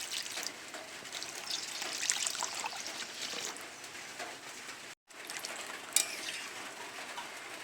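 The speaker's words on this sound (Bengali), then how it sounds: "সেদ্ধর জন্য পরিমাণ মতো জল দিয়ে দেব।" Water poured into a pan over washed rice and lentils set to boil for khichuri, a steady close splashing and trickling stream that runs for several seconds, breaks off briefly, then resumes with a clink.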